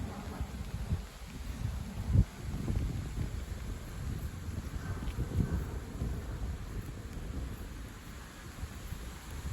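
Strong west wind outdoors buffeting the microphone, a continuous low roar with gusty swells and one sharp thump early on.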